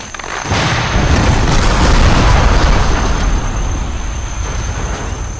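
A loud explosive detonation in a military video game, a sudden heavy boom with a long rumbling roar that sustains and slowly fades over several seconds.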